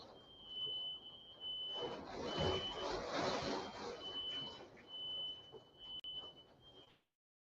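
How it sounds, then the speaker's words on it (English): A household smoke alarm sounds a steady, piercing high-pitched tone from start to finish, moderately loud, while a person talks over it. "my damn smoke alarm going off"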